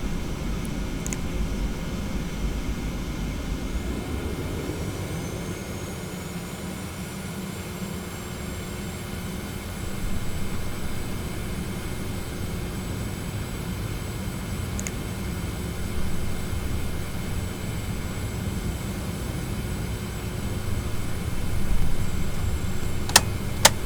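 Boeing 717 jet engines in the TFDi Design flight simulator spool up as the throttles advance: a high whine climbs in pitch and then holds steady over a continuous low roar, with no talking.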